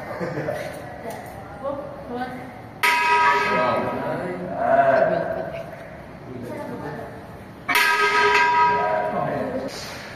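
A church bell strikes twice with ringing, slowly fading tones, under steady background chatter and ambient noise.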